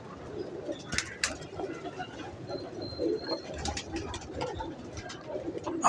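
Pigeons coo softly in low, throaty murmurs, with an occasional brief chirp, against quiet background noise.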